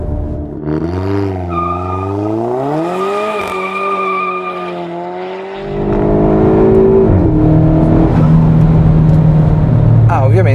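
A tuned Alfa Romeo Giulietta 1750 QV engine revs loudly, its pitch climbing and falling through several sweeps, then settling into a deep, rumbling idle that continues to the end.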